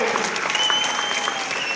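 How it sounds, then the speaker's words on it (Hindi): Audience applause at a political rally, a workers' convention in Jalandhar's central assembly segment: a dense, steady wash of clapping from a large crowd, sustained and fairly loud throughout. "जोरदार तालियां होनी चाहिए"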